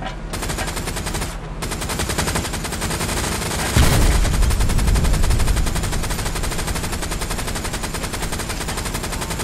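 Sustained automatic gunfire from friendly infantry in a Hell Let Loose World War II battle, heard from inside a Sherman tank crew position: loud continuous bursts of machine-gun and rifle fire, with a heavier blast partway through.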